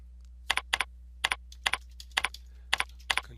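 Keys on a computer keyboard are tapped in short, uneven bursts of two or three clicks, close and crisp over a faint steady hum, with no one talking.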